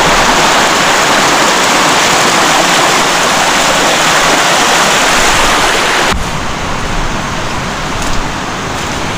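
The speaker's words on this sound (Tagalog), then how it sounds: "Tawid lang tayo dito sa ilog. Mababaw lang naman yan." A shallow rainforest river rushes steadily during a crossing, a loud continuous wash of flowing water that drops slightly in level partway through, with splashes near the end.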